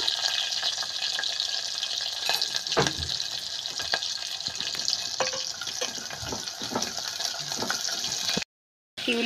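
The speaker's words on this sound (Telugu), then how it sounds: "ఈ ఉల్లిగడ్డలు మంచి బ్రౌన్ కలర్ వచ్చేటట్టు మంచిగా వేయించుకోవాలి" Onions and green chillies sizzle in hot oil in a pan, a steady close frying hiss with occasional stirring scrapes and clinks, ending in a brief silence.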